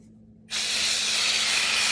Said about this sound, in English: we're going to start off by spraying it with some of this duck fat.